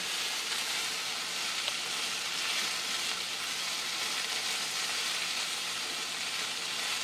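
Green beans sizzle and fry steadily in a hot pan while being stirred, a continuous close, even crackle with soft hiss and no talking.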